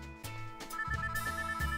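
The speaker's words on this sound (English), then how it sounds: "my phone starts ringing" A phone ringing in a visual novel, an electronic ringtone with repeated pulsing tones over low background music, steady and fairly close with no talk.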